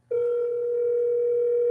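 A telephone dial tone hums steadily during an outgoing call, a clean continuous tone that starts abruptly and holds at even loudness, with no voices.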